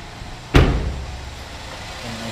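A single sharp clunk from the hood of a GMC Terrain with a 2.4 liter Ecotec engine being opened, close and fairly loud, followed by a short rattling decay over quiet background.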